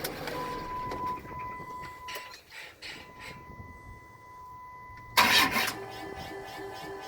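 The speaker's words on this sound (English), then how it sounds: "You just hear the normal pump noise." A FASS fuel pump running with a steady, thin whine over a low hum, broken by a short, loud rattling burst partway through.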